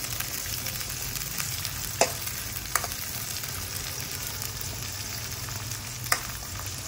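Beans and capsicum shallow fry in a pan with a steady, fairly quiet sizzle, a few sharp clicks of a utensil rising above it, close and without talk.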